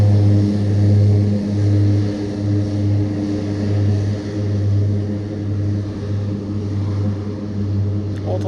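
Seaplane at a Maldives island resort building power for takeoff, a steady low propeller drone heard from a distance over open water, continuous and unbroken for several seconds.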